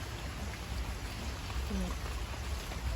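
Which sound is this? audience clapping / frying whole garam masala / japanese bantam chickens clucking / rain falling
rain falling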